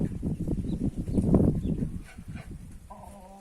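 Low, busy clucking from several chickens fills the first two seconds, then fades into quieter scattered clucks and a short higher call near the end.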